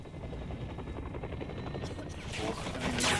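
Helicopter rotor drone in Call of Duty: Black Ops 6, a steady close thumping whir under game noise, with a burst of gunfire-like crackle building near the end.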